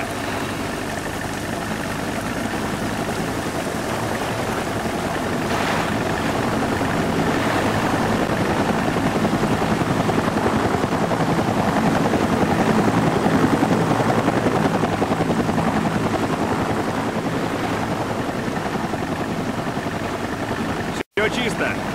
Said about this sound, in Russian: Вертолет! Все в укрытие!